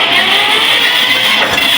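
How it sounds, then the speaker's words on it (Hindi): A vintage 1956 Eicher tractor engine runs just after starting, giving a loud, close, steady rumble with a rough mechanical hum and no talking. "पहले साल में ट्रैक्टर स्टार्ट, बहुत बेहतरीन आवाज़"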